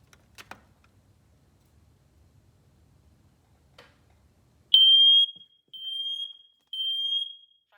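A Siterwell smoke alarm under test gives three loud, shrill electronic beeps, the first longest, after a few faint clicks in near silence.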